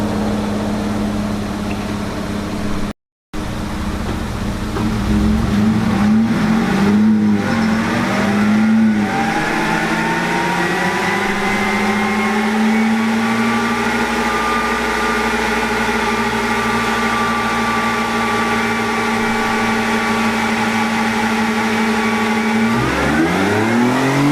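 A 2018 Chevy Colorado pickup with a new intake and exhaust, four-wheel drive engaged, accelerates hard in one long pull. The loud engine note climbs steadily, then drops off sharply at the end.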